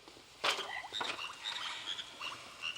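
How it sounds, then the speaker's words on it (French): Frogs croaking in short pulsed calls, several overlapping chirps repeating through the moment, fairly close and moderately loud with no voices. "je pense que Simon avait raison avec ses grenouilles"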